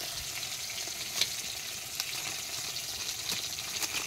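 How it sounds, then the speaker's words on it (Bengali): Fish sizzle in a pan in a home kitchen, a faint, steady frying hiss with a few small pops, heard alone without speech. "আর এইখানে মাছ ভাজা হচ্ছে।"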